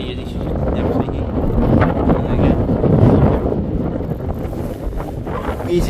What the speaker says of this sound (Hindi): यहाँ पे इतनी तेज़ हवा चल रही है